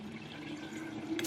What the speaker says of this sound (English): sit him up and make the water come over his quills